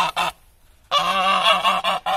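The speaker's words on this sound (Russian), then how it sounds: "Вот мне оттуда уйти, от этого крикливого гуся." A goose honks loudly and close, a short cry, a pause, then a long harsh series of honks.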